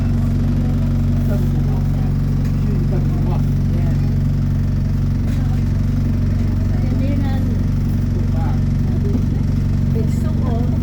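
A packed replacement bus drives along, its engine a steady low drone throughout with passengers murmuring and chatting under the rumble.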